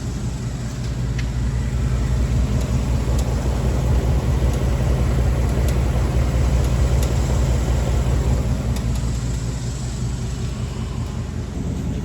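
A 2023 Ford Mustang GT Premium's engine runs at idle, a loud, constant low rumble with faint, irregular light ticks sprinkled over it throughout.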